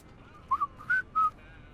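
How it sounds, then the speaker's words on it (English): Short whistled tune from a cook character in the video game Fallout New Vegas, four clear notes, two quick then two longer held, fairly close and alone over faint background hum. "Are you whistling, Farber?"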